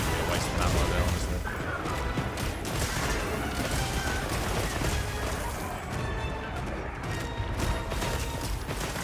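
Rapid gunfire rattles nonstop during a Monster Hunter Wilds hunt, a dense, steady barrage of shots and crashing impacts that continues throughout, with a voice talking over it.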